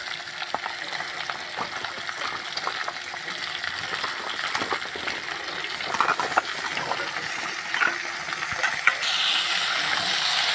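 Chopped vegetables hit hot oil in a frying pan while fish curry with pumpkin stems, papaya and potato is being cooked, giving a steady close sizzle with stirring clatter throughout, growing a little louder near the end.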